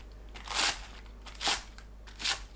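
A knife cuts green onions into short 2.5 to 3 cm lengths on a cutting board, three crisp crunchy strokes spaced roughly evenly and heard close up with no speech.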